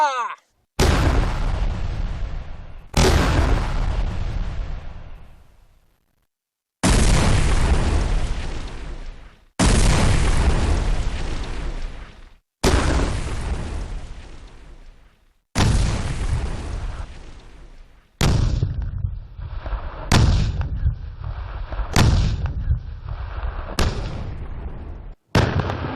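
Blasting charges set off to imitate 130mm coastal artillery fire boom out in a series of about eight loud, heavy detonations, each with a rumbling tail, coming several seconds apart.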